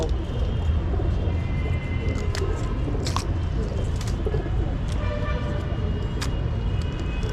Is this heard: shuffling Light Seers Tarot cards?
no